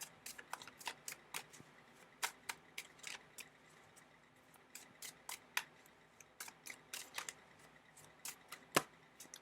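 Tarot cards being shuffled produce a long run of crisp, quick riffles and slaps, close and fairly quiet, coming in irregular bursts with no talk.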